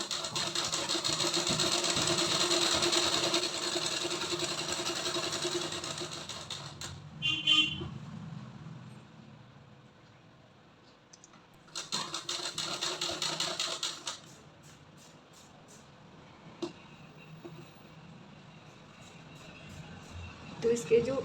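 A sewing machine stitches palazzo fabric in two bursts, a long run and then a shorter one, with a voice talking over and between the runs.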